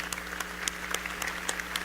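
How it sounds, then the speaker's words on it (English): Gala audience applauding in a large hall at a 10-year celebration, a steady patter of many hands clapping at moderate distance, with no voices standing out. "Let's give him a round of applause"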